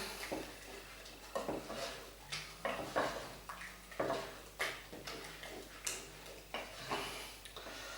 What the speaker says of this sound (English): Stir those nuts in.